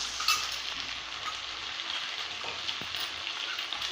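Gram flour batter goes into potato masala frying in a pan for puri masala: a steady, close sizzling hiss with faint stirring and a light clink, no talking.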